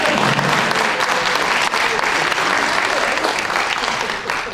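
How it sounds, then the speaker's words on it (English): Dense, continuous applause from an audience at a university speaker series event fills the space loudly and evenly, with no pauses throughout. "let's give her a round of applause"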